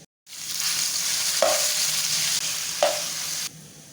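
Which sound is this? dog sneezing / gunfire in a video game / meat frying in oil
meat frying in oil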